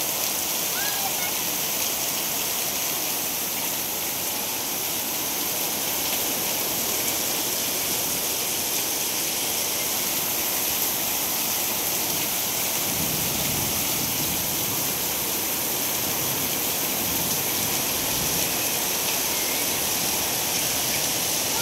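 Heavy rain pours in a steady, dense hiss that fills the whole stretch without a break. It is loud and close, and faint voices sit low beneath the downpour.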